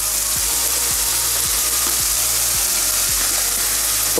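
Onions fry in a pan for homemade liver pâté, giving a loud, steady sizzle that fills the whole stretch, with faint low thumps recurring every half second or so.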